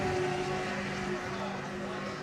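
An offshore racing powerboat in the Supercat class at the Key West Powerboat Races drones past with a steady, loud engine whine and a strong tonal hum, gradually easing off as it moves away.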